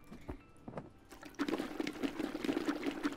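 A shaken hot water bottle in the game Unpacking sloshes with a soft burbling liquid sound that swells after a few light ticks and keeps churning faintly, with no voices.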